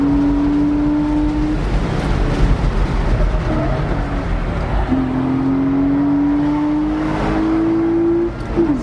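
A Porsche Boxster 2.5 laps the Nordschleife, its engine droning loudly inside the cabin with steady, rising pitch through a long pull, briefly dipping at a gear change before climbing again.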